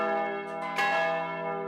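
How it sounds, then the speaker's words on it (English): Cathedral bells in Green Bay, four of its five ringing, ring out with rich, sustained tones, a fresh strike landing partway through over the lingering hum. "4 of the cathedral's 5 bells are ringing again."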